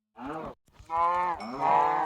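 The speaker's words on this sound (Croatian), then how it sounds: "Krava!" A Minecraft cow moos three times in a row, each call drawn out and loud, with brief gaps between them.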